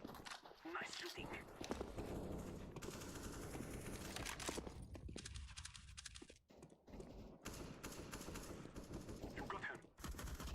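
Bursts of automatic gunfire from the battle royale shooter PUBG Mobile during a tournament match, fairly faint and mixed with keyboard clicks and quiet voices talking.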